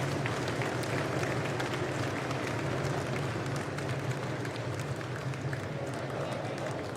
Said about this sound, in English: give yourselves a huge, huge round of applause